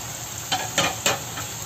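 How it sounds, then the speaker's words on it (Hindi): Marinated chicken sizzles in masala in a pan for chicken bhuna, a steady frying hiss broken by three scraping stirs, heard close with no talking. "अब हम क्या करेंगे, ऐसे में मैरिनेटेड चिकन इसमें डाल देंगे।"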